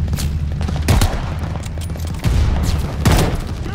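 Sniper rifle shots in Call of Duty Vanguard, a few sharp loud cracks spaced about a second apart over a rumbling battlefield backdrop.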